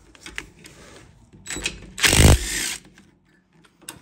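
Ratchet wrench backing out 10mm caliper bolts on the rear brakes of a Ram 1500 pickup, a loud burst of rapid mechanical clicking and whirring near the middle, with softer tool clatter before and after.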